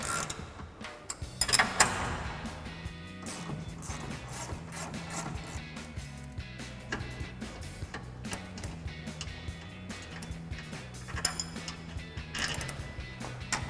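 A 19mm ratchet clicks steadily as it loosens a leaf spring mount bolt on a 2016+ Toyota Tacoma, producing close, rhythmic mechanical ticking with a few louder clanks of tool and metal.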